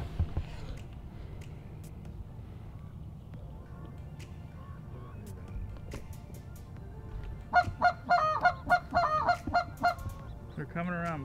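Geese honking on a goose hunt, quiet at first and then a burst of loud, repeated honks from a flock close overhead toward the end, with a voice speaking softly underneath.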